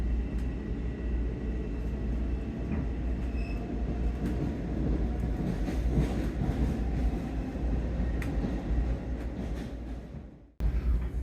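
Commuter train heading toward Ronkonkoma on Long Island, heard from inside the car: a steady, loud rumble of wheels on track with faint squeals and rattles, ending in a brief sharp dropout before the rumble resumes.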